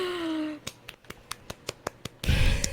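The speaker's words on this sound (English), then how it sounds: "It's me clapping." A person claps by hand about eight times in a steady, close rhythm, bracketed by a voice before and a louder burst of noise after, the claps sharp and distinct against a quiet background.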